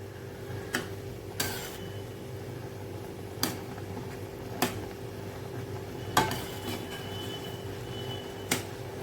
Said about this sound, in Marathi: हे पीठ आपल्याला चांगलं असं मिक्स करून घ्यायचं आहे.